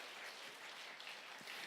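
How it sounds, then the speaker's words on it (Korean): A church congregation applauds together in a steady wash of clapping that fills the hall, heard faint and distant with no voices over it. "하나님께 박수로 영광."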